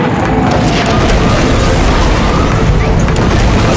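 Propylene tanks with leaking valves exploding in a series, a dense, loud continuous roar of blasts and rumbling booms filling the whole stretch without pause, no talking.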